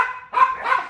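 A chihuahua barks twice in quick succession, sharp, high and close, with a short pause between the yaps.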